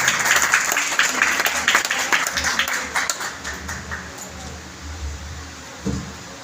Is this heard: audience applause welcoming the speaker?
yes